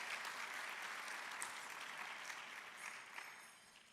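An audience at Fullerton's annual State of the City event applauds a councilmember. The clapping is steady and continuous but faint and distant, and there is no talk over it.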